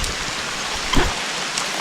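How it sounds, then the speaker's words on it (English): Hail and big raindrops pelt down during a wilderness storm in Canada, a dense, steady hiss of impacts close by with one sharper thud near the middle. "It's a bunch of hail, ice, little ice pellets falling on us."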